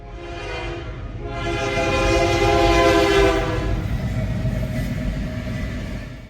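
A CSX freight train on the Garrett Subdivision rolls past close by, its horn sounding loud and sustained with a steady rumble of rail cars underneath throughout.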